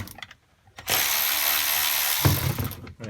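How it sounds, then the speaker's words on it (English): A Milwaukee electric ratchet whirs in one sustained burst of about a second and a half, close and fairly loud, as it backs out carburetor bolts on a Rotax 717 engine. Quieter mechanical clicks come before and after. "if you don't have one of these Milwaukee electric ratchets, you're missing out"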